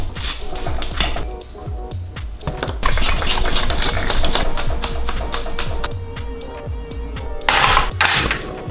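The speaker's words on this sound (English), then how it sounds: "So first start off by cutting up this jalapeno." A knife chops a jalapeno on a cutting board, rapid crisp taps in quick runs with short pauses, close and fairly loud, with a fan-like hum underneath.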